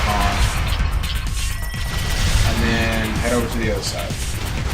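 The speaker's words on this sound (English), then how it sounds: "You're going to fire and then you're going to lock onto the next set with your rockets" Weapons and rockets firing in the video game Sanctum 2: repeated booms and crashing impacts stack up over loud game noise, while someone talks over the action.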